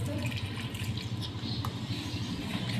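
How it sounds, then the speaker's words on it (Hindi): Fresh water pouring into a budgie's water container, a close, steady watery trickle with a low background hum and no talking. "अभी इसमें हम जल्दी से फ्रेश वाटर डाल के केज में डाल देते हैं"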